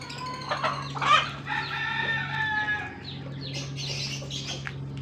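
Rhode Island roosters and hens on a small family farm crow and cluck together, several birds overlapping close by with a steady low hum beneath.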